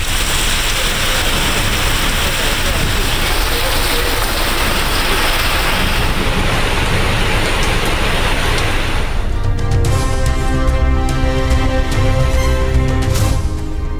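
Steady rain falling over Kotagiri in the Nilgiris hills, a continuous broadband hiss throughout, with a denser, more textured downpour patter in the latter part; no voices.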